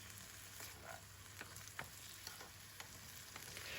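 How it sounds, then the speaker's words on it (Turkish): Salted potatoes fry in a pan on the stovetop, a faint steady sizzle with soft crackles and occasional small pops, no voices. "patateslerimizin pişmesi için ocağımızın altını yakıp pişirmeye bırakıyoruz"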